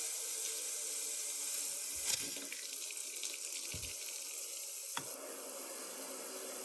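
Water runs steadily from a newly installed Glacier Bay McKenna pull-down kitchen faucet into a sink, a continuous close hiss with a few soft knocks and clicks, no talking.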